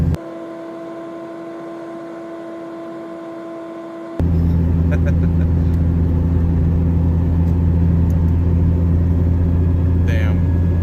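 A Chevy V8 rumbles deep and steady up close, starting abruptly after a few seconds of quieter humming, with people talking over it.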